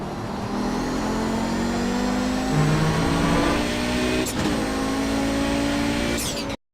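An Audi 90 GTO race car in the iRacing sim screams at full throttle, engine pitch rising steadily through the gears with a couple of quick shift breaks, loud and continuous until it cuts off abruptly at the end.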